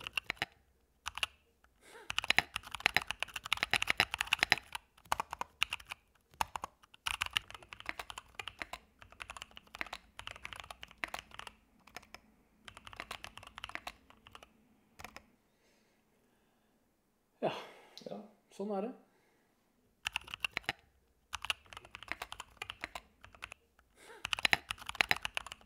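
Typing on a KBDFans TOFU65 mechanical keyboard: fast runs of crisp, clacky keystrokes up close, broken by brief pauses and one longer quiet gap, with no talk.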